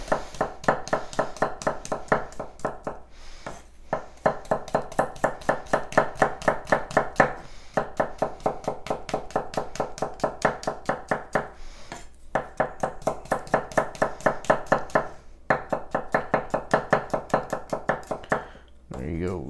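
Knife chopping six garlic cloves on a cutting board for a pork porchetta roast, a rapid steady run of close, sharp taps in long bursts broken by brief pauses, with no talk.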